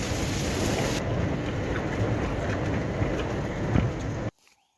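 Heavy rain pours in a dense, loud, steady roar that fills the whole stretch, then cuts off abruptly near the end.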